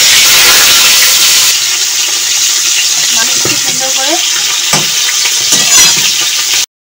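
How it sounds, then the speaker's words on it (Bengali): Tilapia fish fries in oil in a wok with a loud, continuous sizzle and crackle, broken by scattered stirring knocks, before the sound cuts out abruptly at the end. "দিলাম কড়াইতে মাছ ভাজার জন্য"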